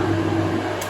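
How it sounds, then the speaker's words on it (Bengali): A water pump hums steadily in the background of a home in Kolkata, a constant low drone with a faint tonal whine, unbroken and alone. "ব্যাকগ্রাউন্ডে নয়েজ আছে, পাম্প চলছে"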